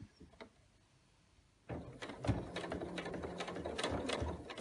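Domestic sewing machine stitching elastic into a fabric mask: after a quiet pause the motor whirs up into a steady close mechanical drone with rhythmic needle ticks and clacks.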